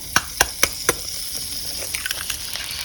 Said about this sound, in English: this is how I like to crack my eggs